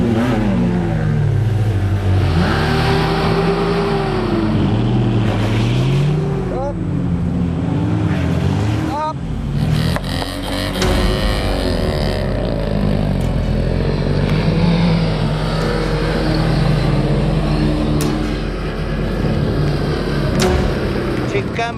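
A Dakar rally car engine roars loudly, its pitch climbing and sagging as it labours up a steep climb short of power, with muffled voices faintly beneath.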